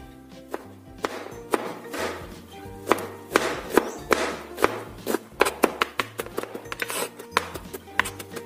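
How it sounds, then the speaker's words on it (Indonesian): A knife finely minces two garlic cloves on a cutting board, a quick run of close, crisp chopping taps in an uneven rhythm over soft background music. "Kemudian kita cincang 2 siung bawang putih. Cincang agak halus ya."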